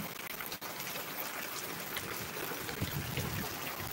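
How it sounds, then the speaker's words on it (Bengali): Heavy rain falls in Chittagong as a faint, steady, even hiss of drops that continues throughout with no pauses. "বৃষ্টি হচ্ছে চিটাগাঙে পর্যাপ্ত পরিমাণ, সারাদিন ধরে আসবে বৃষ্টি"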